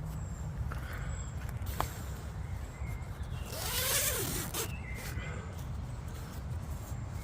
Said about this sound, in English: There's the zips.